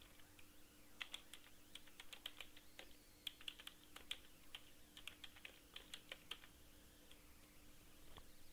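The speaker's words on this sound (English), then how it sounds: "Type the email." Quiet, irregular clatter of keys as an email address is typed on a computer keyboard, bursts of quick taps with short pauses, close and alone.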